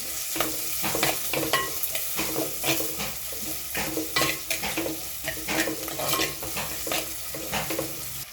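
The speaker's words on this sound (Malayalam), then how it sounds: "ഇതിലെ നമുക്ക് വെളുത്തുള്ളി ചതച്ചതിടുകയാണ് വെളുത്തുള്ളി ചതച്ചതും പിന്നെ ഇഞ്ചി ചതച്ചതും നമുക്ക് നല്ലതായിട്ടൊന്ന് കൂട്ടി വെക്കും" Crushed garlic and ginger frying in a pan for a sardine curry with coconut, a constant close sizzle broken by repeated scraping and stirring strokes of a spoon against the pan.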